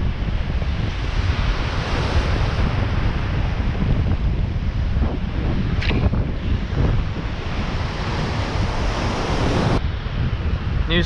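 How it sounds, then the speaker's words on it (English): A strong east wind blows straight onshore at a Padre Island surf beach, buffeting the microphone in a continuous loud roar mixed with crashing waves and no talk. "The wind's probably pretty bad. Picking up a bit. It's an east wind"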